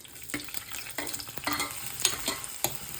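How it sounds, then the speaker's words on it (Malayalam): Chopped shallots fry in hot coconut oil inside a clay pot, a steady close sizzle broken by repeated scraping stirs, with no talking. "അപ്പോൾ നമുക്ക് ഇച്ചിരി വെളിച്ചെണ്ണ ഒഴിച്ചു കൊടുക്കാം ചട്ടിക്കകത്ത്. എണ്ണ ചൂടായി നമുക്ക് കൊച്ചുള്ളി ചെറുതായിട്ട് അരിഞ്ഞതാണ് അതിട്ട് കൊടുക്കാം."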